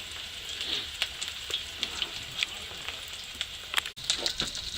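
Oysters fry in canola oil over an outdoor beach fire, giving a steady close sizzle and crackle with frequent sharp pops and spits running throughout, alone with no voices.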